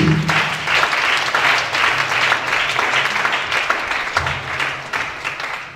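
Loud, sustained applause from a church congregation acclaiming Jesus, dense clapping filling the whole stretch with faint cheering and voices mixed in.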